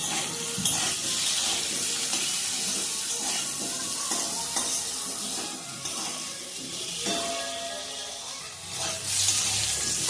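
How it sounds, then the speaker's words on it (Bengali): Cut potatoes frying in oil with a little salt and turmeric powder, a steady close sizzle with occasional stirring and light pan clatter throughout. "দিয়ে দিচ্ছি কেটে রাখা আলু, সামান্য নুন, হলুদ গুঁড়ো দিয়ে আলু ভেজে নেব।"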